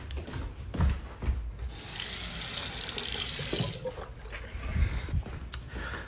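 A kitchen or bathroom tap runs steadily into a sink for a few seconds, water splashing continuously at close range with no talking.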